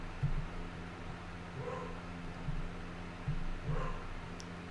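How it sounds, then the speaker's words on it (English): A dog barks in short, faint bursts at a distance, repeated several times over a steady low electrical hum. "Oh, the dog's barking."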